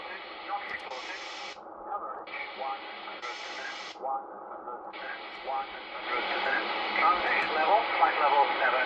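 An Icom IC-R8500 receiver tuned to airband carries a pilot or controller voice over steady radio hiss, the transmission narrow and somewhat muffled.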